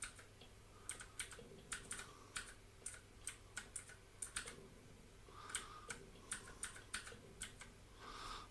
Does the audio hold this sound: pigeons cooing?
no